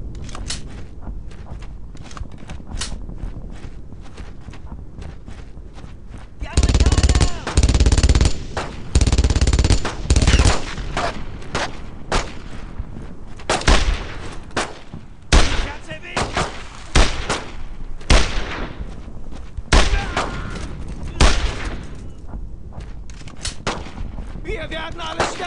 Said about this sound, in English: Attack that MG-42!